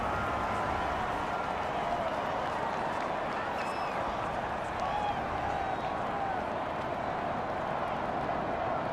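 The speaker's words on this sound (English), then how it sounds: "And the home crowd applauding." A home crowd applauding in Madden NFL 24 at a Washington Commanders versus New York Giants game, a steady, dense wash of clapping and crowd noise that runs unbroken throughout, with a commentator's voice over it.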